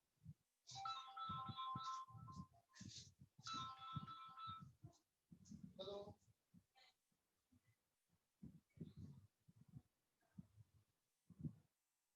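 A phone rings in two long tonal bursts with a short warbling chirp after them, moderately close, followed by intermittent soft knocks and handling noises in a quiet room.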